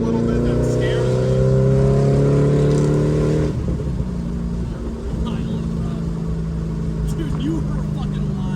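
A Shelby GT500 engine revs and rumbles loudly from inside the car, its pitch climbing and then dropping off, with people talking over the steady engine drone.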